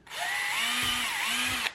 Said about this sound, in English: With an 8-inch bit, I'm going to pre-drill a hole into the PVC.